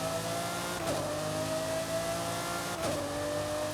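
Forza Horizon 5 race car engine holding a steady mid-pitched drone, with two quick gear shifts marked by brief dips and a fresh pitch rise about two seconds apart, no talk over it.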